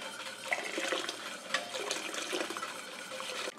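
Eggnog mixture pours into a container with a steady liquid splashing and gurgling, moderately close and fairly quiet, with a few brief clinks along the way.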